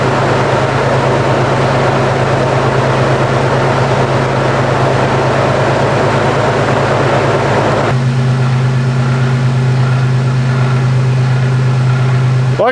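A Toyota 4Runner engine idles steadily while warming up, a loud continuous low rumble with a constant hum that shifts slightly partway through, close and alone with no talking.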